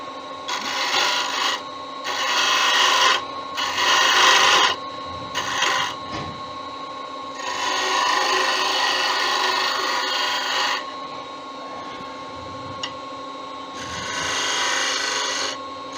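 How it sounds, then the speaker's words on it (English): Sandpaper rubs a wooden lever bottle opener spinning on a lathe, making close, raspy bursts of a few seconds each with short pauses and a steady motor hum underneath. "And now we'll sand it."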